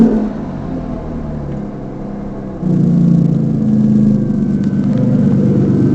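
A 2006 Aston Martin Vanquish S engine starts with a low rumble, then rises into a louder, sustained rev near the microphone at about the midpoint, with no talking.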